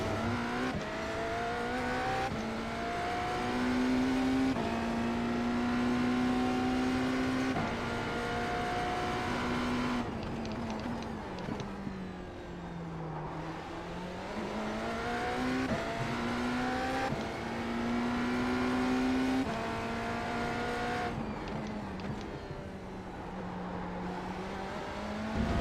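A race car engine in the iRacing sim howls at high revs, climbing through gears and dropping pitch on downshifts, with blips and pulls repeating steadily over about twenty-five seconds, loud and continuous.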